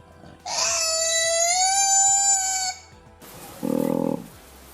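A koala gives a loud, drawn-out harmonic screech held for about two seconds, followed after a pause by a shorter, lower buzzing call, in Warrumbungles National Park.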